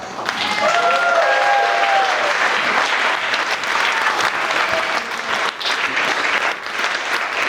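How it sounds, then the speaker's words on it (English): Wedding guests applaud the best man at a reception, a loud, dense, sustained round of clapping that fills the room from start to finish, with a few faint whistles or cheers rising near the beginning. "Ladies and gentlemen, one more huge round of applause."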